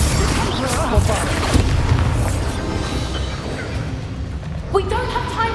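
A Bombarda explosion spell goes off in the Hogwarts Legacy video game, a loud booming blast with crashing bursts and debris, followed by a further sharp impact near the end.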